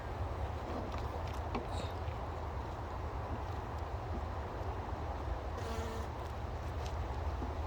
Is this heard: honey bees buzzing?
yes